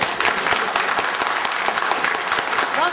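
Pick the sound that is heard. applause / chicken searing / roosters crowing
applause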